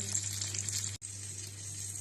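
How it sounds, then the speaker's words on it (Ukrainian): Pork chops sizzling in a frying pan after being turned, a steady close hiss of fat with a low hum underneath and one brief cut-out midway. "Відбивні смажаться, перевернули на інший бік."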